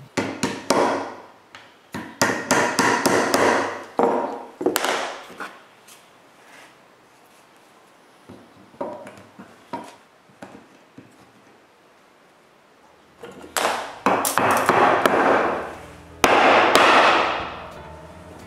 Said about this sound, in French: je peux insérer mes goujons puis mettre l'autre morceau en place